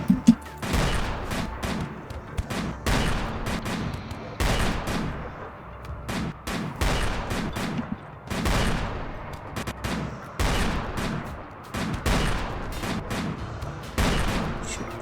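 Repeated volleys of video game gunfire, with bursts of sharp shots at steady, fairly regular intervals. Each volley sounds moderately close and carries no talking.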